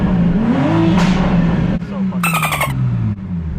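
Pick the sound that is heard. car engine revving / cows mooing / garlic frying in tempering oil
car engine revving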